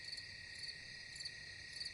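Crickets chirp steadily at night in a dense, continuous high-pitched trill with a faint pulsing rhythm, no voices present.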